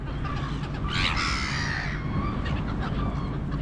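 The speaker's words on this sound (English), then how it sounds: "There's the anti-bird device." An anti-bird deterrent device at an auto dealer emits harsh, screeching electronic cries with a burst of louder distorted squawks in the middle, over steady outdoor background noise.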